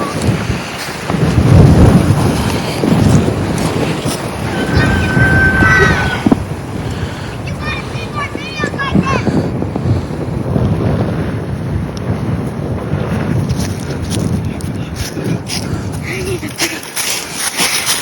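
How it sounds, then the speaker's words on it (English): Strong outdoor wind buffets the microphone in a loud, continuous, rumbling roar with gusty surges, while faint voices are partly audible beneath it. "It's so windy."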